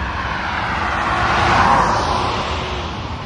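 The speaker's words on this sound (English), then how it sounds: "Limousine." A limousine goes by as a smooth, rushing engine and road whoosh that swells to a peak midway and then fades slightly. It is heard alone, without voices.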